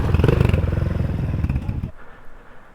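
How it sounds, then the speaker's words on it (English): CFMoto 450MT motorcycle engine running on a ride in the Philippines, a close, rough pulsing rumble that cuts off abruptly near the end, leaving faint background noise. "Nice smooth engine."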